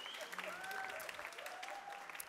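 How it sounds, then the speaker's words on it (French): Brief applause from a gala audience in Québec, bright and moderately loud, with cheering and whistles mixed into the clapping. "Oui, de l'applaudissement!"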